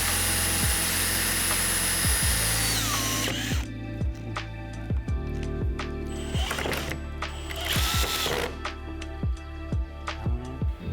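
A power driver sets screws into a Vicrez LV4 front splitter on a car, first a long continuous high whir and then repeated short ratcheting clicks, close and fairly loud with no talk.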